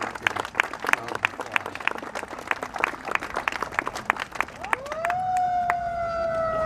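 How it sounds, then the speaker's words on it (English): Audience at a community gathering breaks into a round of applause, dense scattered clapping filling the space, until a steady rising electronic tone like a siren swells in near the end and overlaps the last claps. "applause."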